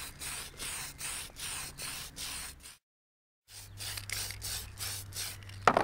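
An aerosol can spray-paints a coat of red onto a model bodyshell in a rapid series of short hissing bursts close by, stops for a moment, then sprays several more bursts.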